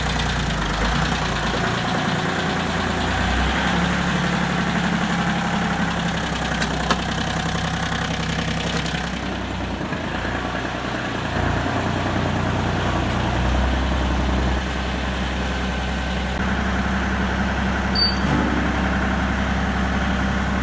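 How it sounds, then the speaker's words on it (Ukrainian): A Japanese mini tractor engine idles steadily while warming up, a loud, continuous low rumble with a faint knocking texture that holds for the whole stretch, with no speech. "Прогрівся трошки трактор"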